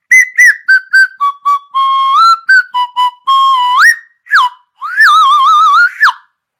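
A handmade wooden slide whistle, freshly finished with a first coat of finishing oil, is played in a run of short bright toots and longer held notes, with pitch sliding up and down in swoops toward the end, loud and close with no talking.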